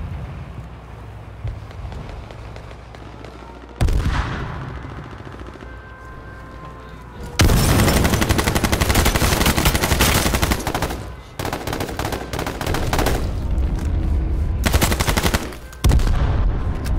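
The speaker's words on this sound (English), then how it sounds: "Oh, they got the LMG too." Light machine gun fire in the H1Z1 battle royale game, played on PS4 Pro: sustained loud automatic bursts in long stretches with brief gaps between them, over background game noise, with no talking.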